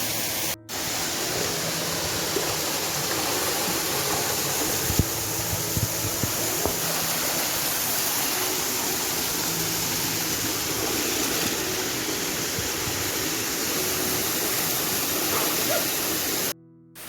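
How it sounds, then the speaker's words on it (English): Castaigne Waterfall in Grenada roars as a dense, constant rush of falling water, loud and unbroken for about sixteen seconds with no voices over it. "Castine Waterfall is located at the entrance to Monong,"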